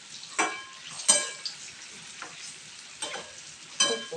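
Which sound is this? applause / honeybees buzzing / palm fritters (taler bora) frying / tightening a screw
palm fritters (taler bora) frying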